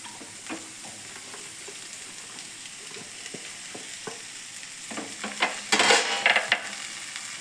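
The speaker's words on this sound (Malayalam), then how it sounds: "ഇനി നമുക്കിതിലേക്ക് വെണ്ടയ്ക്ക ഇട്ട് കൊടുക്കാം" Okra frying in a pan with onion, green chili and curry leaves for a thoran, steady sizzling with scraping stirs and clinks of a utensil against the pan, louder bursts toward the end.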